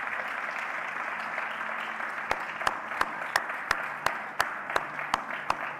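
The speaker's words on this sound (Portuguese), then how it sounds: "Você pode aplaudir a Jesus Cristo." Applause from a church congregation during a Portuguese-language sermon, a soft steady wash of many hands, with sharper individual claps standing out in a regular rhythm over the second half.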